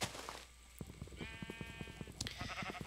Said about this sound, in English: What's up, sheep?